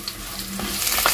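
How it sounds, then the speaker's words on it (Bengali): Pieces of pointed gourd fry in hot mustard oil over a medium flame, giving a steady, close sizzle that holds evenly throughout. "তেল খুব ভালো করে গরম হয়ে গেছে, এবার দিয়ে দেবো পটলের টুকরোগুলো।"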